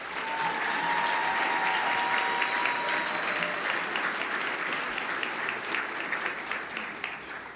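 An audience at a business awards luncheon applauds to congratulate the winner, Scale AI: loud, dense clapping from a large room that holds steady, then eases slightly toward the end.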